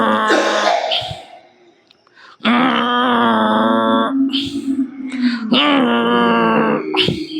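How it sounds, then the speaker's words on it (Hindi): A person makes drawn-out, snore-like throat sounds while inhaling during a breathing exercise, two long groaning tones with a pause and a softer breath between them. "छोटे बच्चे खर्राटे लेते हैं, ऐसा ध्वनि निकालना"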